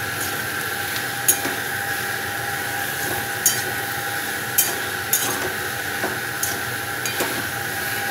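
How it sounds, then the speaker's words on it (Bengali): Bottle gourd cooking with cumin, coriander, turmeric, green chilli and salt is stirred in a pan, with sharp intermittent spatula knocks and clinks over a soft sizzle and a steady background hum. "এবার এটাকে আবার আরেকবার একটু নাড়িয়ে চাড়িয়ে নেব।"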